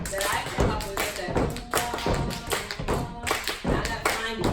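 Hand clapping beats out a rhythmic pattern of uneven, varied claps in quick succession as part of a dance melody, with a voice carrying a tune alongside.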